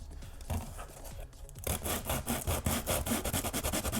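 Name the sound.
sanding with 60 grit sandpaper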